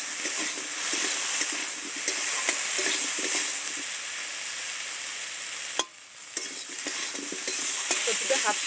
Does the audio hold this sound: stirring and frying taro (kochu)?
yes